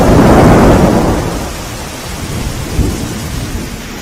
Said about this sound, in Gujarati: પાવાગઢમાં પણ ધોધમાર વરસાદ વરસ્યો